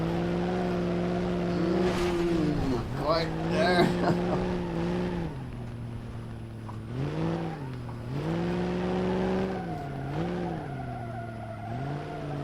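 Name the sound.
car gearbox struggling to change gear, video game BeamNG.Drive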